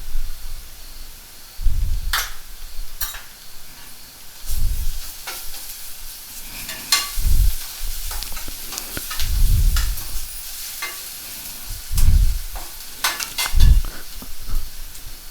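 Onions with ginger garlic paste frying in a pan, a steady hissing sizzle broken by repeated scraping stirs of a spoon every second or two, close and fairly loud, with no talk.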